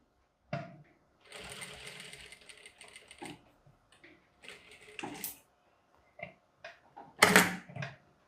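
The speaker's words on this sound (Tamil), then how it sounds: "இப்போ நான் இந்த லைனுக்கு மேலேயும் நான் ஸ்டிச் பண்ணிகிட்டே வரேன்." Sewing machine stitching fabric for a kurti, running in short bursts of rapid mechanical chatter separated by pauses and soft handling noises, close and clear.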